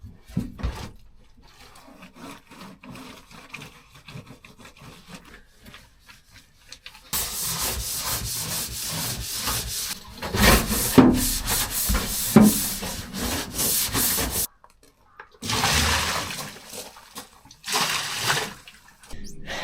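Scraping and rubbing on a plywood camper floor as old Sikaflex sealant is worked off, starting quiet and faint, then turning into louder, busy bursts of scratchy friction with short pauses between them.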